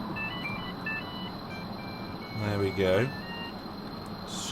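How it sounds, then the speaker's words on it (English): A mobile phone chirps a few short, high beeps early on, faint under steady background hum, while someone speaks briefly. "Excuse my mobile phone"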